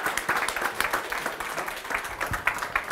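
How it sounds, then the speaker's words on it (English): An audience at a hackathon final claps for a pitching team, a steady patter of many hands sustained throughout the moment, moderately loud and fairly close. "Can we ask for a round of applause for them?"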